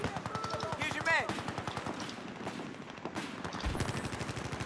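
Rapid automatic fire from an AEK-971 rifle fitted with a heavy barrel in the Battlefield 4 video game, sustained bursts crackling steadily throughout, with a voice talking over the shots.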